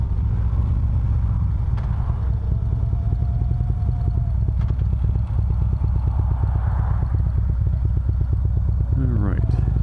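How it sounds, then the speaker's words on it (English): A 2013 Harley-Davidson Road King CVO motorcycle engine chugs with a steady low rhythmic pulse throughout, loud and close, while someone talks over it. "you kind of miss it because the shaking is there, and it almost feels like it's like a chugging in a way."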